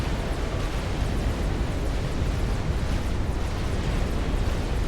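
A battleship exploding and sinking in Supreme Commander: Forged Alliance during a naval battle produces a dense, continuous roaring rumble of blasts, loud and unbroken throughout.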